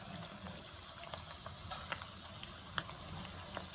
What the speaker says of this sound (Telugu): ఆయిల్ హీట్ ఎక్కిన తర్వాత చిన్న బాల్స్లా చేసుకొని ఈ ఎగ్ బ్యాటర్ని దీంట్లో ప్లేస్ చేసుకుందాం.